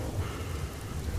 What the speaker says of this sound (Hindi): देखते देखते बारिश तेज हो जाती है